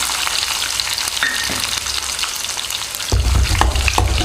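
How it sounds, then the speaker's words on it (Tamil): Finely chopped garlic fries in hot oil with fenugreek and curry leaves for a brinjal gravy, a loud, continuous crackling sizzle with stirring scrapes, growing heavier near the end. "பூண்டு கலர் மாறுற வரைக்கும் கொஞ்சம் வதக்கி விட்டுக்கலாம்."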